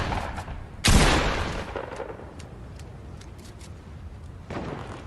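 Fortnite weapon demonstration gunfire, a sharp loud shot near the one-second mark with a decaying echo, then a quieter ambient stretch and another burst at the end.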